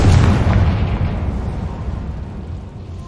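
A Confringo blasting spell detonates in Hogwarts Legacy as one loud, close boom that rumbles and fades away over a few seconds.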